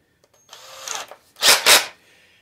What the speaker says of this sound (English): We want to drill through here and into the next surface, the subsurface.